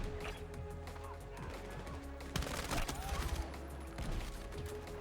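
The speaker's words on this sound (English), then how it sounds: "We're going to try some close quarters combat with the M4." Close-quarters M4 rifle fire in Battlefield 6, bursts of rapid shots crackling over a dense, busy game mix, with a voice talking over the action.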